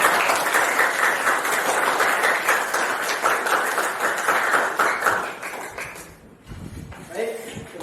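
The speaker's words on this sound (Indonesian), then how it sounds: "Tepuk tangan sekali lagi untuk kita semua." Classroom audience applause at the end of a teaching session, many hands clapping steadily and fairly loudly before tapering off, followed by a brief quieter moment with faint movement.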